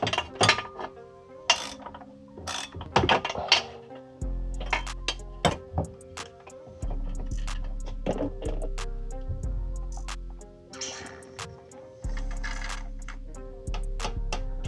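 A ratchet wrench tightens the driveshaft bearing bolts on a Jaguar XJR, giving sharp, close clicks in irregular bursts, with a low mechanical drone underneath in the second half.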